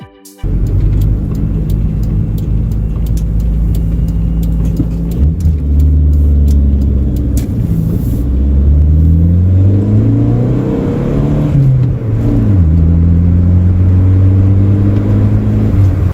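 A Honda CRX driven in a Need for Speed video game, its engine loud and close throughout, revving up and down through several gear changes with a steady droning tone and no talk.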